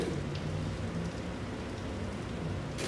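Steady rain falls as an even, continuous hiss with a soft rumbling low end. It stays at a constant moderate level throughout and nobody speaks.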